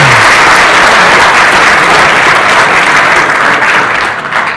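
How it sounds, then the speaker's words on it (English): A crowd at a business model competition gives loud sustained applause for the contestants, a thick wash of clapping that holds steady before thinning out near the end. "if we can get one big round of applause for all the contestants who came up here"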